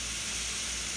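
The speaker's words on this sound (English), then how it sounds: "So we'll let it sizzle for a little bit" Pork chops fry in a pan after a splash of apple cider vinegar, giving a steady, dense sizzle that holds even and loud without pause.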